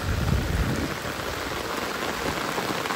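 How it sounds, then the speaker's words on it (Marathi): Heavy rain pours steadily at Kadra Dam, driven by wind, a dense continuous hiss with low gusty rumbles that ease slightly after the first second; no one speaks. "सो पावस मोठो जाला आतां"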